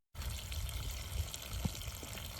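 Water runs steadily into a container during watermelon seed harvesting, a continuous wash of rushing liquid with a few small splashes and knocks, close and fairly even throughout.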